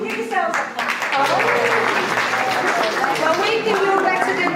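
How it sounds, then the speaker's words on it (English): An audience claps at a community sing-along show, a brief round of applause mixed with voices and lively chatter throughout. "Give yourselves a clap."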